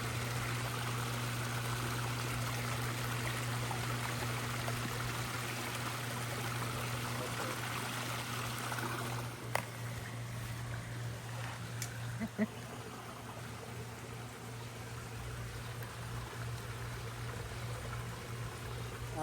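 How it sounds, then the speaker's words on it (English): Water from a garden hose runs steadily into a fish pond, a continuous splashing rush with a faint hum, interrupted by a couple of brief clicks midway. "Now we're using this timer to fill up our pond."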